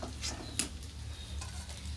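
Fish stirred and frying in a pan on a home kitchen stove, a steady soft sizzle with occasional scraping stir strokes and a brief utensil clink, close and fairly quiet.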